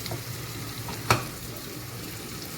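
Onions sizzle gently in a pan as they soften, with one brief knock of a wooden spoon stirring them partway through over a constant close hiss.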